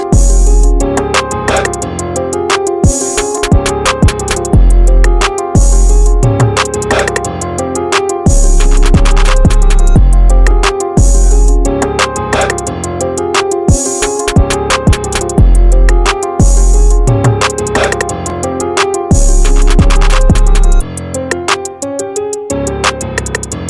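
A rap track with punchy keys and a heavy kick drum plays back loud and dense, without mix bus compression, in a steady looping groove with brief dropouts where the kick and bass hit hard.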